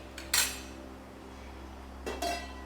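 A lid is set onto a clay pot of simmering fish gravy, giving two short, close clinks of contact separated by a quiet pause over a faint background hum.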